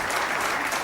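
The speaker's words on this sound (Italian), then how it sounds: "Ancora un applauso a Nino Telli." Brief wash of audience applause at an Italian TV variety show, dense and even, lasting under a second.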